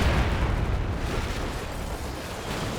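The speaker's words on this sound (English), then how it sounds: "What was that explosion?" A loud, rumbling explosion in the World War II strategy game Company of Heroes 2 fills the brief moment with a dense, sustained boom that slowly fades.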